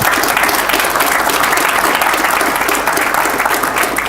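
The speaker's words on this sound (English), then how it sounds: "ask you to give a round of applause to all of our panel members here this morning" A conference audience gives sustained applause to panel members at a morning session, loud, dense and even clapping throughout with no voices over it.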